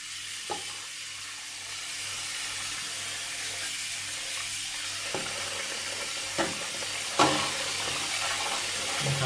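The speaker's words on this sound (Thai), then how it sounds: "เราก็ ล้างน้ำก่อนนะครับทำความสะอาด ได้แล้วก่อนนะครับที่จะใช้ย้อมนะ" Fishing net thread being washed in water before dyeing, a steady broadband hiss of running, splashing water with a few faint knocks, moderately close and with no talk.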